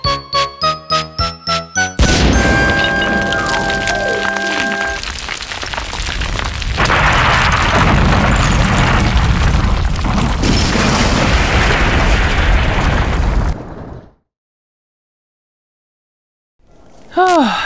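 An explosion sound effect in a Thomas and Friends fan episode, where an engine crashes into a station. A few chiming tones give way to a loud, roaring blast that rumbles on for about eleven seconds before cutting to silence.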